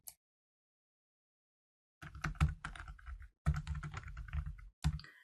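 Computer keyboard typing while entering a parameter name in Power BI: silent at first, then close, dense bursts of quick key clicks in three runs separated by short pauses.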